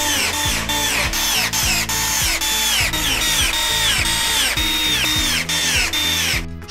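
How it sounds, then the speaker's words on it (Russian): A power screwdriver drives self-tapping screws from a furniture hardware kit into a single bed frame, its motor whirring in repeated short bursts that rise and cut off over and over, loud and close, with no talking. "крепит с помощью саморезов из комплекта фурнитуры"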